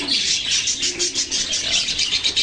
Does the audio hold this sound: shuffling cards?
no